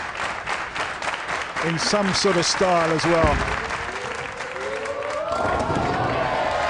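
Bowling crowd at the Weber Cup 2016 breaking into loud applause and cheering, building over several seconds and sustained, with a commentator's voice talking over it.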